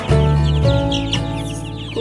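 Chickens in a hatching area with newly hatched chicks, among them golden laced Polish and cochin breeds, give loud, close, repeated clucks and low churring calls throughout, with no talking.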